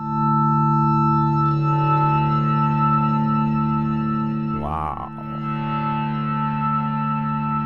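Sustained, lush synthesizer pad tones from Bitwig's Phase-4 synth presets hold steady with shimmering harmonics and a brief warbling swell midway; a single short exclamation is spoken.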